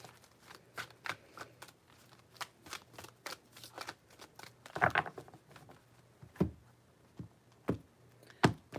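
Tarot cards being shuffled by hand in a string of quick riffling, flicking bursts, close and fairly quiet, with a few sharper card snaps toward the end and no talking.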